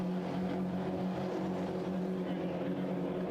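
Race cars at Brands Hatch in a 750 Motor Club race cross the finish line, a steady, dense engine drone with a humming low pitch that holds for several seconds at moderate distance.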